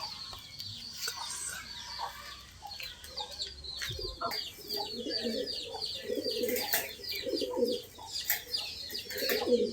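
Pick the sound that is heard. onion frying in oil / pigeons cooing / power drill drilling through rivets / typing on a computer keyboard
pigeons cooing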